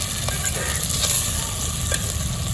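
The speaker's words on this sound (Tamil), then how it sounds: "வதக்கிறேன், இப்போ போட்ட வதக்கிறேன்." Tomatoes sautéed in a pan give a loud, close sizzle of frying with brief stirring scrapes over about two seconds, and no one speaking.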